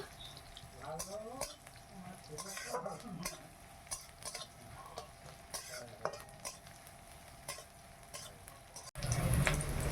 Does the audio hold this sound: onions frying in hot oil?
yes